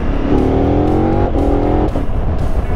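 A loud 2017 KTM 1290 Super Adventure S motorcycle engine revs steadily upward in street mode, a gear change breaks the rise, then it pulls hard again, close and continuous.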